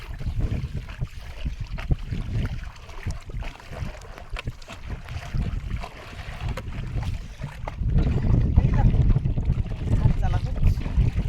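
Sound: forest department speed boat approaching on river

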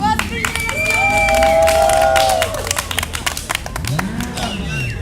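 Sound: audience applause

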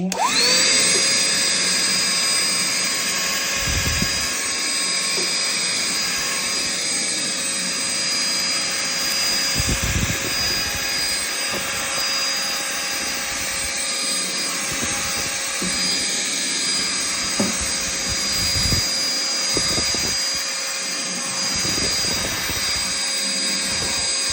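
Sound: vacuum cleaner running

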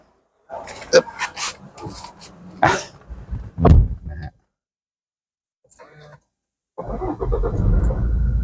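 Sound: Toyota Fortuner 2.4 4WD engine starting

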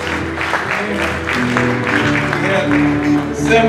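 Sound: church congregation clapping

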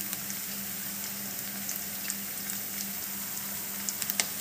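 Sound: onions frying in pan with turmeric

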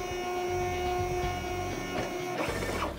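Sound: RFID label printer feeding labels during calibration

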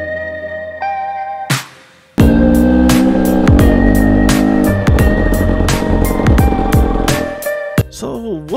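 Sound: Husqvarna TE250i dirt bike engine revving while riding

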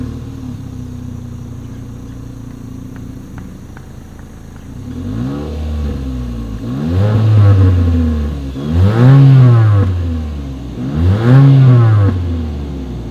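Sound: 2020 Mitsubishi Eclipse Cross exhaust sound, engine revving

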